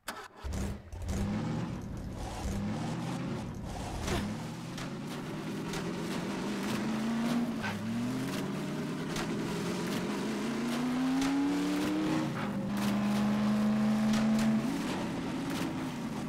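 Vehicle engine in Half-Life 2: Episode Two starting with a sputter, then revving and droning steadily as the car drives along, pitch rising and falling with gear shifts and occasional clunks, no talk.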